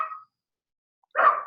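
A dog barking to be let in, two short sharp barks separated by a second of silence, close and fairly loud.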